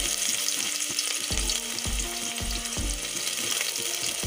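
Chopped onion goes into hot oil in a pressure cooker and fries with a steady, close sizzle, broken by repeated low thumps and scrapes of stirring.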